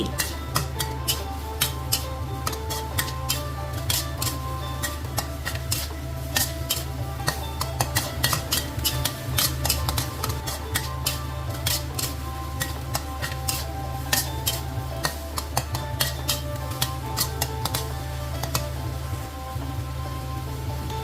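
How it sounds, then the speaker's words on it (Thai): Catfish stir-fried over high heat with krachai, chili and torn kaffir lime leaves, a spatula ticking and scraping against the pan in quick, steady strokes over a constant hum of frying. "แล้วก็เร่งไฟแรงผัดเขาให้หอมดีผัดให้เข้าเครื่อง"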